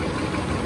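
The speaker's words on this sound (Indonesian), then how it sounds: "mesinnya mesin jadul, berisik banget" An old, very noisy construction machine engine at a Korean work site running in a steady, loud droning rumble with no pauses.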